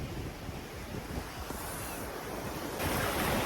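Waves breaking and surging at Scarborough beach, a continuous close wash of surf with wind noise over the microphone, swelling louder near the end.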